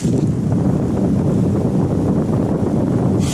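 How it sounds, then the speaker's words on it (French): A steady rush of cool air blows hard and close out of a cave vent on Pic d'Anjeau, an even windy roar with no voices. "On entend le vent que ça fait? Bon alors ça c'est de l'air frais qui sort de là"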